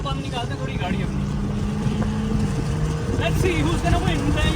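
A car accelerates hard alongside a Hyundai Elantra, Toyota Corolla and tuned Vitz in a street race, its engine droning and rising steadily in pitch, loud and close, with someone talking over it.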